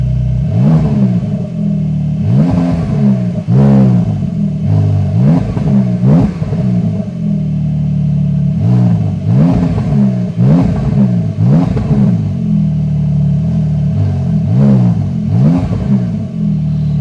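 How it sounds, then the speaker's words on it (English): A 2024 Porsche 911 GTS (992) with an aftermarket TECHART exhaust revs repeatedly, each throttle blip rising into a loud, raspy exhaust roar before falling back, in a steady series of pulls. "Now let's rev it."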